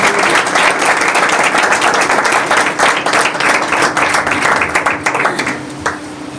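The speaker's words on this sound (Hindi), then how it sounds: "एक बार फिर से खुदा के खूबसूरत कलाम के लिए जोरदार तालियां।" A congregation at a Sunday church service applauds after the sermon, loud close clapping from many hands in a dense burst that thins out toward the end, with a faint sustained hum underneath.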